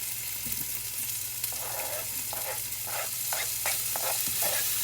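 Steady sizzle of onion and bell peppers frying in a pan, with intermittent scraping and stirring sounds over a constant low hum.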